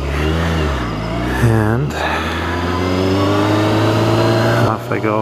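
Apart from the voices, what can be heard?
sport bike engine revving while riding off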